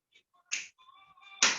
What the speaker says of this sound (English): Maybe click the fingers.